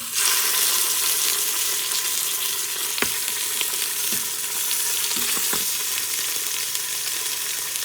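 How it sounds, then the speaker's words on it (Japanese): Wagyu back ribs sear in hot vegetable oil in a pot, giving a steady close sizzle and crackle with a few sharp pops and clinks of utensils throughout. "Put the meat in the pot。"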